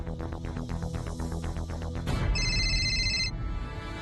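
A phone rings during an outgoing call: a pulsing, repeated ringback tone, then a sharp electronic ringtone that cuts in loud and steady for about a second before stopping.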